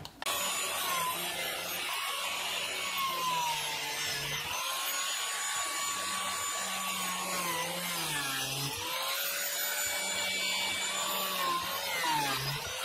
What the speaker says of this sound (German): wir nehmen die Flachdübelfräse und dann drehen wir so, auch seitenbündig und dann machen wir Loch von oben